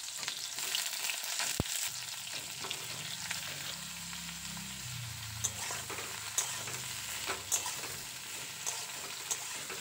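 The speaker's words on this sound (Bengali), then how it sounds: "এবার ঝিঙেগুলোকে খুব ভালো করে ভেজে নেব" Sliced ridge gourd fries in hot oil over tempered five-spice seeds, a soft continuous sizzle with occasional sharp pops and light stirring clicks, close and fairly quiet with no talking.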